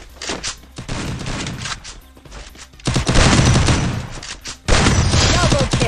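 An M1887 shotgun in Garena Free Fire, firing in bursts of loud, dense blasts that build into heavy sustained volleys, with brief quieter gaps between them.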